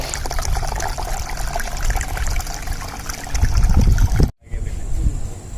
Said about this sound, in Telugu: ఇంక ఇక్కడ వాటర్ కూడా వస్తున్నాయి భలే ఉంది కదా ఈ వాటర్ ఇలా పడుతుంటే